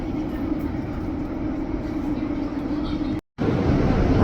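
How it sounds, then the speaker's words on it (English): Steady low rumble and rolling drone from inside a London Overground Windrush Line train running toward Clapham Junction, continuous and fairly loud, with a brief total dropout near the end before the noise resumes. "This is a Windrush Line train to Clapham Junction."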